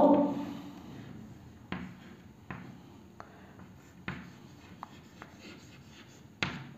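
Pen or marker writing a chemical name by hand during a chemistry lesson on alcohol nomenclature, soft scratchy strokes with a few sharper taps, quiet and close, no talk.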